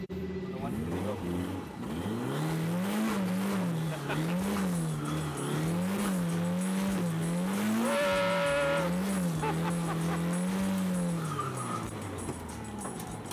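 A race car drifting in donuts, its engine droning in a wavering, cyclic pitch as it circles, with tires squealing sharply midway; heard from close, likely from inside the car.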